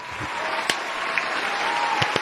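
Radio hosts clapping together on cue in a studio, a few sharp close claps standing out over a low steady room hum, fairly quiet overall.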